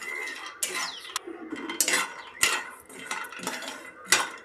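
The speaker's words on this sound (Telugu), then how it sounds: "ఈ బాదం కూడా సిమ్లో పెట్టి మనం దూరగా వేయించుకోవాలి" Almonds are dry-roasted on low heat and stirred in a pan, sharp metallic scrapes and clinks of a spoon against the pan in irregular bursts, fairly close and moderately loud.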